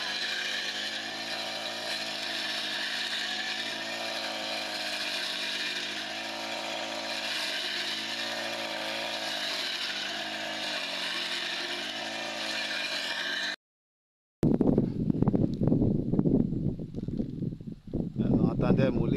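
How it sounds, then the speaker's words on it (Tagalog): A grass cutter runs outdoors in a wooded area, a loud, steady engine drone with a constant pitch that cuts off abruptly near the end, followed by close, rustling handling noise. "muli tayo mag-grass cutter"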